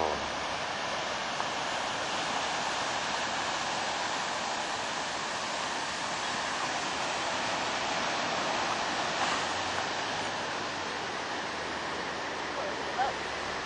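Ocean waves break steadily at Capitola Beach on Easter Sunday, a continuous wash of surf heard at moderate distance without distinct pauses.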